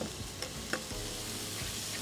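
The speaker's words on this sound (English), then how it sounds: "Nice sear on those onions" Onions sear in a hot pan alongside burgers cooking outdoors by the beach, a steady moderate sizzle with a few sharp stirring clicks near the start and no voices.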